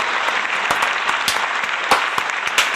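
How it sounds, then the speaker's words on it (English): Applause from an audience on a podcast, steady dense clapping throughout with a few sharper claps standing out, loud and without speech. "let's give that a round of applause"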